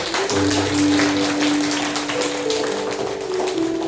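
A church congregation at a confirmation service gives a round of applause. Steady clapping runs throughout over a sustained musical tone.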